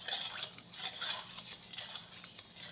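A metal spoon stirs a teaspoon of sugar into anchovy and kelp broth, making quick, light clinks and scrapes against the pot that come in bursts, close and fairly quiet.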